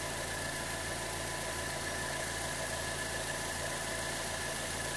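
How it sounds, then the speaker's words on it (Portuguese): A 2020 Volkswagen Polo's 1.6 MSI flex-fuel engine, 18,000 km old and running on ethanol, idles with the hood open and shakes noticeably. It gives a steady, close, even hum with no voices. "Motorzão MSI aqui, o carro tá com 18 mil quilômetros, veja como que vibra o motor, ó."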